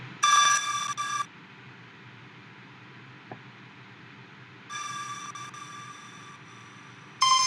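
Bright, ringing glitchy bursts with a reverb tail, sounding at the start, middle and end of a quiet, hissy musical passage.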